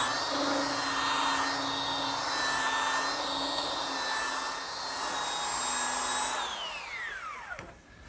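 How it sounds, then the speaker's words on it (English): A belt sander smooths a wooden post in a woodworking shop with a loud, close, steady high whine, then winds down and stops near the end. "now I'm using my belt sander to remove any of the imperfections left by the saw blade and smooth"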